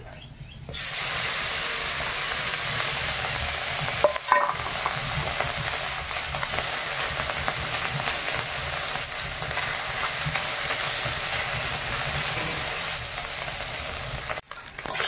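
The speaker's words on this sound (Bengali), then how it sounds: "বাকি মাছগুলো ভেজে নেই।" Small puti fish fry in hot oil in a pan, a loud steady hissing sizzle that runs on with little change, heard close up.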